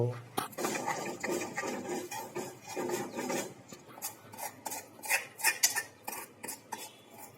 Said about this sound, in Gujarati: દળેલી સિંગ અંદર ઉમેરી દઈએ મિત્રો સરસ રીતે મિક્સ કરી